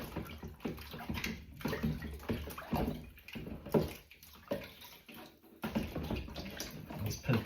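Water splashing and sloshing as a mucky butter container is rinsed out with washing-up liquid in a sink, steady running and swishing throughout at close range.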